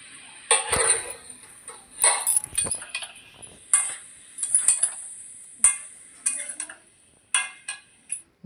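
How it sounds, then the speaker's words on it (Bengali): A spoon stirs and sautés katla fish pieces in a pan, giving repeated sharp metallic scrapes and clinks in irregular bursts over a faint sizzle, close and fairly quiet, with no talking. "ভালো করে নেড়ে ছেড়ে ভালো করে কষিয়ে নেব।"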